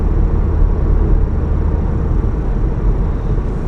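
Low, steady interior drone from a Stage 2 Volkswagen Golf R engine and exhaust cruising around 3,000 RPM, a constant loud booming hum with road noise and no voices.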